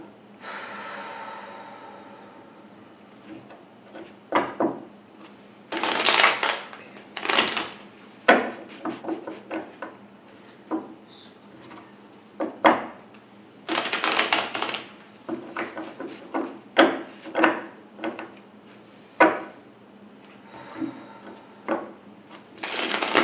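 Cards are shuffled in a series of quick riffling bursts and taps, close and crisp, separated by short pauses and soft breaths.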